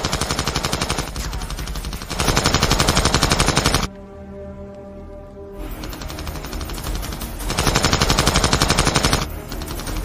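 Sustained automatic machine-gun fire in a wartime battle scene of German forces attacking Soviet troops, rapid loud bursts with a short pause mid-way, then firing resumes.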